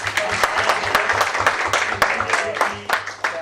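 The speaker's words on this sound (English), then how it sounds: "Let's clap for her first of all" Audience applause at the Banking Chanakya 2017 East Zone semi finals for a participant, crowd clapping with distinct sharp individual claps standing out over a busy wash, a voice audible beneath it.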